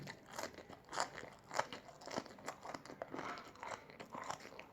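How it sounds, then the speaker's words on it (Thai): Someone chews crunchy fresh lettuce greens during a rustic home evening meal: close, crisp, irregular bites and crackling crunches repeat steadily for several seconds, fairly quiet and without talk. "ผักกาดกรอบๆนะครับพี่น้อง"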